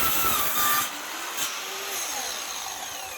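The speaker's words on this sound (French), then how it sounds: "je vais couper les pieds, donc les planches qui vont être en dessous pour stabiliser le rail" Wooden boards are sawn to make the legs of a round flat ramp rail, a close, rasping cutting sound that is loud at first and then continues in rougher, fainter strokes.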